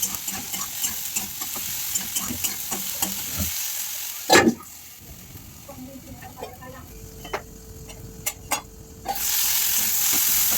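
Chopped tomatoes and onions sizzle and hiss in a pan, stirred with scraping clinks partway through, the frying steady and close before a louder burst of sizzle at the end.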